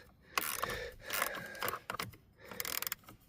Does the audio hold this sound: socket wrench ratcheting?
yes